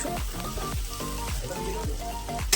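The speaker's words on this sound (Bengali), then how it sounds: "কড়াইয়ে তেল গরম করে ওর মধ্যেই আদা রসুন আর টমেটো আর সামান্য কাজু বাদাম দিয়ে হালকা ফ্রাই করে নিচ্ছি" Ginger, garlic, tomato and a few cashews fry gently in hot oil in a wok for a cauliflower roast, a steady soft sizzle with crackling pops running continuously at close range.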